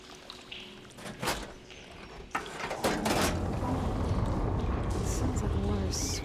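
Machinery in Horizon Forbidden West clanks and slides with a few sharp mechanical knocks, then water begins rushing in a steady, fairly loud flow that continues to the end.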